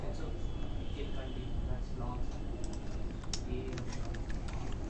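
Computer keyboard typing, a quick run of light key clicks close by over a steady noisy background hum, with talking mixed in.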